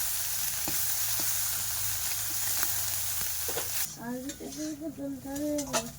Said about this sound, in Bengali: অল্প তেলে কিন্তু মাছটা ভাজবো